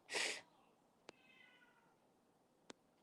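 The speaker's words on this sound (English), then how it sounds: "this cat wants in." A cat meows loudly and close by at 2 in the morning, wanting to be let in, then goes quiet; a couple of sharp ticks follow over a faint, still room.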